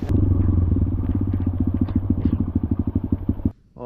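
Motorcycle ridden along a mountain backroad loop at dusk, engine droning steadily with rhythmic pulsing and road clatter, close and loud, cutting off abruptly near the end.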